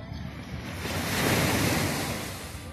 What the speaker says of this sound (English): Here's the beaches.